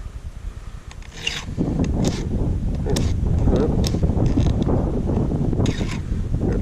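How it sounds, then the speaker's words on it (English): Hand file rasping across the rakers of a Stihl chainsaw chain: steady, close scraping strokes that start softly and then run continuously and loudly, with wind noise on the microphone. "filing these off actually goes a lot quicker than the teeth because there's nowhere near as much"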